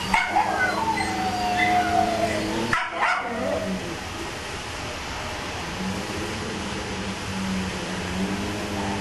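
A dog whimpers and gives short yips and howl-like cries in an animal handling training scene, moderately close, with a brief clatter partway through and a steady low background hum.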